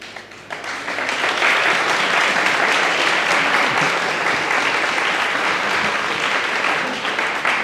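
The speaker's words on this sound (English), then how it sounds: "Big applause for Zoia." A theatre-hall audience at a startup pitch event gives a grant winner loud, sustained applause that swells after a brief quieter start and continues evenly for several seconds.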